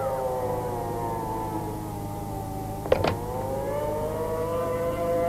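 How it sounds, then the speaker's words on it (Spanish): A prison alarm siren on Alcatraz wails steadily with a slowly shifting pitch. A brief thump cuts through midway, and the siren carries on throughout. "Ha oído la sirena desde San Francisco."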